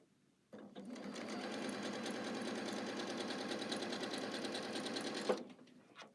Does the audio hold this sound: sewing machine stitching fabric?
yes